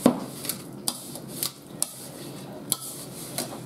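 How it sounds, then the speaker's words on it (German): Fork scrapes and taps against a bowl in short, irregular strokes, close up, with soft mashing rubs between the clinks as bananas are mashed with sugar. "Und den Zucker, den wir jetzt mit die Bananen zerstampfen."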